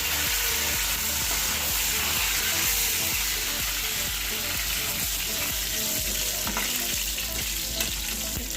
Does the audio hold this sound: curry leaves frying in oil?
yes